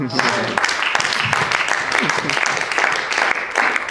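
A church congregation claps and cheers, praising the Lord; dense rhythmic clapping mixes with scattered shouting voices, loud and close throughout.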